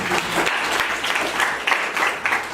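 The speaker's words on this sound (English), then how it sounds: "A round of applause" Audience applause for a debate adjudicator being introduced at a school debate event, a dense steady wash of clapping from a moderate crowd filling the whole stretch.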